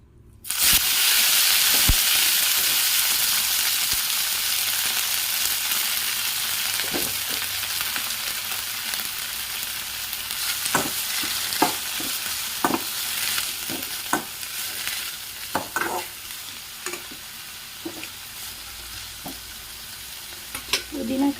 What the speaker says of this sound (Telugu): మనం శుభ్రం చేసి పెట్టుకున్న పుదీనాని ఫ్రై చేసుకుందాం.